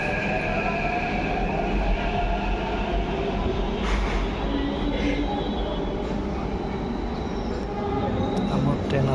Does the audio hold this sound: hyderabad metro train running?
yes